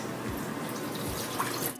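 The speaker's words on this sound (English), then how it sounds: "we are going to pour enough water into the saucepan so that it covers the bottom half of the pie plate" Water is poured steadily into a saucepan, a soft continuous splashing trickle heard close and fairly quiet, with no talking.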